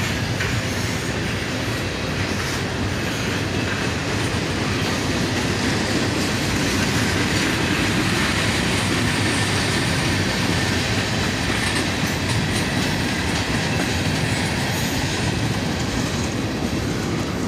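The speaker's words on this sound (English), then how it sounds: "Leading, we have an SD40-3, and trailing is an SD50-3." A freight train led by an SD40-3 and trailed by an SD50-3 locomotive rolls past close by, a loud continuous rumble of wagons with wheel clatter and occasional squeal holding steady throughout.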